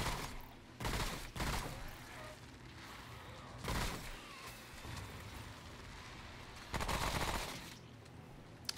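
Submachine gun in Remnant: From The Ashes during a boss fight, several rapid bursts of automatic fire, each lasting about a second, separated by quieter gaps of game ambience.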